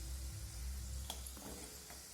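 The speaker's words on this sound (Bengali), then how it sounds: "মিষ্টিগুলোকে আরও একটু সময় নিয়ে ভাজতে হবে, তাহলে সম্পূর্ণ কালারটা এসে যাবে।" Small milk-powder and flour sweets fry in hot oil, a soft steady sizzle with a few faint pops and bubbling, quiet and close with no voices.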